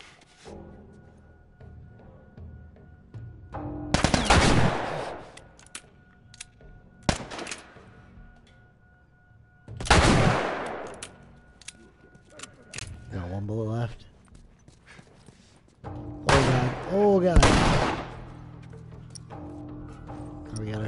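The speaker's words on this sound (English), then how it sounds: "An assault rifle." Assault rifle fire in The Last of Us video game comes as several loud, sharp bursts spread a few seconds apart. Quieter stretches and some vocal sounds lie between them.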